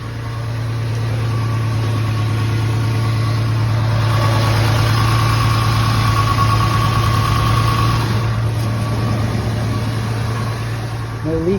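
A Ford F150 engine idles nearby after an oil change, holding a steady low hum and faint rattle for the whole stretch with no talking over it.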